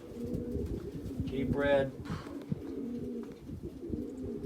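Racing pigeons coo in a loft at a pigeon station, with a clear nearby coo rising over a steady background of other birds while someone talks throughout.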